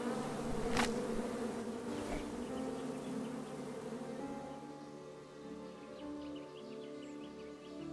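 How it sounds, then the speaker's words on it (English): A swarm of bees buzzes steadily and fairly close throughout in the King's Quest (2015) game, a dense droning hum with a brief sharper burst near the start and no talking. "I got all these bees. Oh, look at all that. That's a lot of bees."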